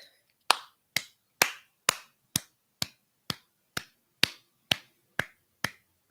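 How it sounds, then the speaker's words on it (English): Single hands clapping slowly and evenly, about a dozen sharp close claps spaced roughly half a second apart against near silence. "I'm sorry, I'm clapping for myself."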